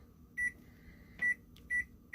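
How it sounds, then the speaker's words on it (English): A kitchen timer is started while soup boils, giving three short, clear electronic beeps at uneven intervals in a quiet kitchen, faint overall and with no speech. "So now, Bella, would you like to start the timer up there for 10 minutes?"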